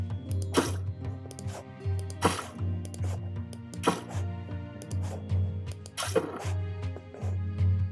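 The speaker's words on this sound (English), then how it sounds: "we've got water footsteps 0 through 59" Water footsteps mixing gravel crunch with splashing water, a series of separate steps at an even walking pace, clear and close with a low background tone underneath.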